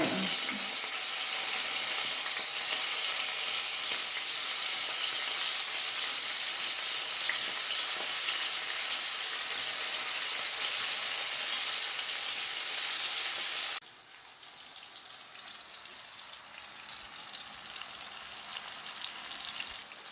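Pieces of fish fry in hot oil, giving a loud, steady sizzling hiss that drops abruptly to a quieter, softer sizzle partway through, close by with no voices.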